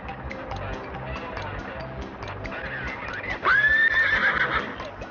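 A horse whinnies loudly partway through, over the rhythmic clip-clop of hooves and faint background voices, at Piha beach.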